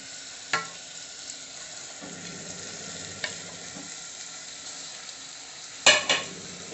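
Chicken sizzles steadily in a hot pan while a utensil stirs it, with a few scraping clicks and a louder clatter near the end.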